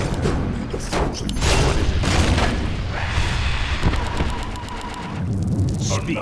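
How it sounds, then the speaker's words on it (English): Deep earthquake rumble in Warcraft III's underground labyrinth, a sustained heavy roar with crumbling bursts swelling and fading over several seconds, loud and unbroken, with no voices. "Another earthquake."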